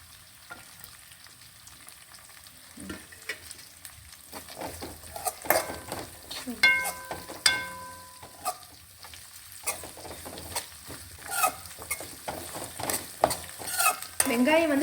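Onion and capsicum stir-fry in a pan for egg fried rice, giving a soft, continuous sizzle with scattered scraping and stirring clinks of a spatula and a few brief metallic rings, fairly quiet and close.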